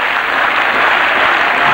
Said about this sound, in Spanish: El público que le aplaude.